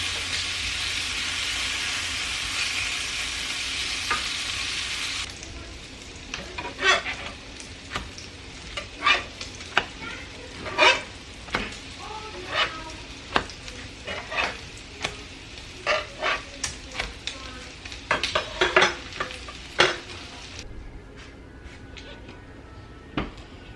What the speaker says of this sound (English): I also need to get over here and stir these sausages some more.